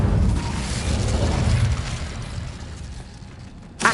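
The Incendio fire spell is cast in Hogwarts Legacy, giving a broad rushing whoosh and rumbling burst that slowly fades, with a sharp crack near the end.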